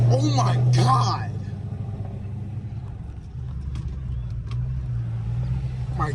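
A Chrysler 300 with a 392 Scat Pack engine and burble tune cruises through city streets, its deep low rumble droning steadily beneath excited voices talking inside the car.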